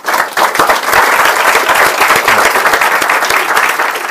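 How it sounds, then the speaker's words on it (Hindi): A big seminar audience breaks into loud, dense applause, with many hands clapping close and continuous. Sharp individual claps stand out in the roar for about four seconds without letting up. "Let's give a big hand for it."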